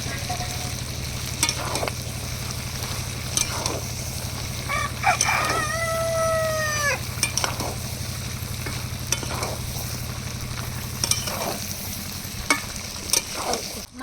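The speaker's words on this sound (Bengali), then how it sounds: "এবার এর মধ্যে ভেজে রাখা ফুলকপি দিয়ে দেবো দিয়ে আর দু মিনিট কষিয়ে নেবো" Desi chicken and pre-fried cauliflower cooked down in a pan without oil: steady scraping stirs over a dry sizzle, with a low continuous hum and a rooster crowing briefly in the background midway.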